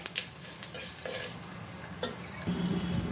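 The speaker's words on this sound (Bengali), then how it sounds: "দেখো দিয়ে দিলাম পাঁচফোড়ন, তেজপাতা আর দুটো শুকনো মরিচ" Panch phoron, bay leaf and two dried chillies dropped into hot oil left from frying hilsa fish heads, crackling and sizzling steadily up close with a few sharp pops and no talking.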